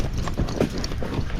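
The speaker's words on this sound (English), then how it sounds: "Now we're going over branches and step-ups right here." A Tennessee Walking Horse clops along a trail over branches and step-ups, its hooves thudding and crunching in an uneven rhythm close by, with no talking.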